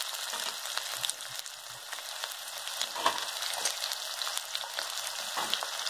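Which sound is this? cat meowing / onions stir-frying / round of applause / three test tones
onions stir-frying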